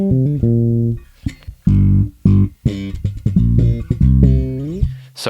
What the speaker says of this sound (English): So hopefully what you're hearing is that it's very slammed and compressed.